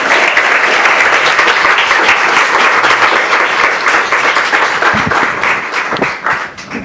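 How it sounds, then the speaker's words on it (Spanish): A full audience applauds after an academic talk in Lagos de Moreno, Mexico, with loud dense clapping that holds steady, then begins to thin toward the end. "le brindamos un aplauso al doctor Losada Goya"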